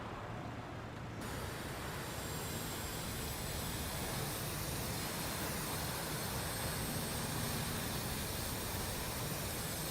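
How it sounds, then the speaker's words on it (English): A BAe 146 jet engine spools up in the X-Plane 12 flight simulator, heard from inside the cockpit as a steady, broad, even roar that stays level throughout. "Engine number 1 is coming on."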